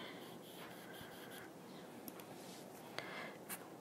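Eraser rubbing across a written math problem in a short burst of scrubbing strokes, fairly faint, with no talking.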